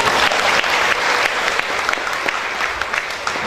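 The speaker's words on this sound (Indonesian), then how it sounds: "Tepuk tangan dulu." A church congregation bursts into loud, dense applause that holds steady for a few seconds without pause.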